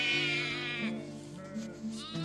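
A sheep bleats up close, a wavering, drawn-out cry followed by shorter bleats.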